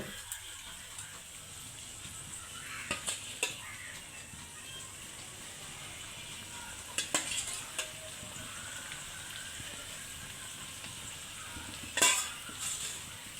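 Baim eel fish hits a hot pan and sizzles steadily, a close, even hiss broken by a few sharp clinks of stirring, with no talk.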